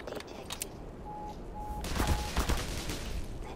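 Sniper and other gunfire in the Black Mesa shooter game, a few sharp shots cracking over a steady noisy game backdrop, with bursts clustering in the second half.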